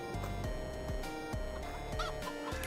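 Chickens clucking in Farming Simulator 22, a run of short repeated clucks and squawks over a steady background hum, moderately close and continuous with no voices.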